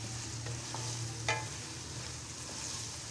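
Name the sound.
stirring boiled boneless chicken pieces in pan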